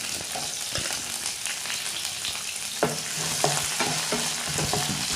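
Sliced onions and garlic frying in a pan, a continuous hissing sizzle with scattered clinks and scrapes of stirring, close and steady, no talk.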